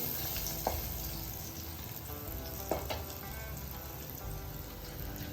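Bitter gourd (karela) stuffed with spices sizzles as it fries in hot oil in a pan. A steady, dense crackle carries on throughout, with a couple of brief scraping stirs standing out.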